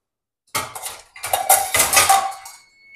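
A metal lid lands on a cooking pot and scrapes into place, making a short run of close, loud clinks and rattles.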